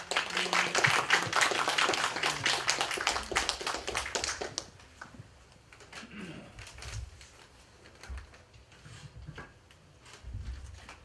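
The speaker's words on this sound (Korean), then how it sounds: "큰 박수 부탁드립니다" Audience at an orientation event applauding a guest speaker, a loud dense burst of clapping for about four seconds that cuts off into scattered claps and quiet room noise.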